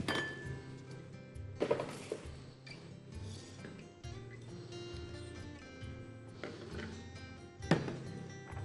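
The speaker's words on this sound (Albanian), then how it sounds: "Dhe vendos tenxheren." Metal cooking pot set down on a stove in a home kitchen while making apple compote, with clinks and knocks of pot and utensils scattered through a quiet background, a couple of sharper clanks standing out.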